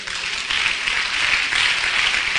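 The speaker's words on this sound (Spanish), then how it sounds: "Un aplauso al Señor." A church congregation at a pastor's sermon applauds, producing a steady, dense wash of many hands clapping together with no break through the whole stretch.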